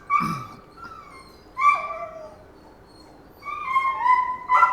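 Dogs in shelter kennels holding smaller breeds and puppies yip and whimper in short high bursts, with a few brief barks spaced across the clip, fairly close and alone without talk.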